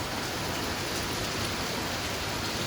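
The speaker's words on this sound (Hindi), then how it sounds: "ज़बरदस्त बारिश हो रही है सुबह सुबह" Heavy morning rain pours down beside a swimming pool, an unbroken hiss of drops striking water and hard ground, fairly soft and even.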